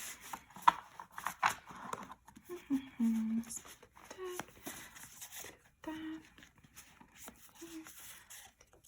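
Tarot cards being shuffled by hand, soft riffling, rubbing and papery scraping in short bursts, close and quiet, with a voice talking intermittently over the handling.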